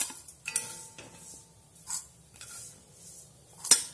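Fried vermicelli is lifted out of a pan with a utensil, giving scattered light scrapes and a few sharp metallic clinks, one louder near the end, over a quiet kitchen background.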